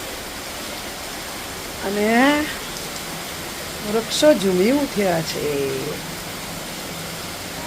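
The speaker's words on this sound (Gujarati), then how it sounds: "સરસ મજાનો વરસાદ થઈ રહ્યો છે" Rain falls steadily on a home garden with neem and tulsi plants, a constant soft broadband hiss throughout, with someone speaking briefly over it.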